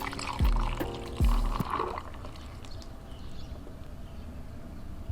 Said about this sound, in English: And then I'll take this strainer and pour the coffee through